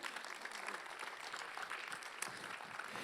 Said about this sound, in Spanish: Damos ese aplauso.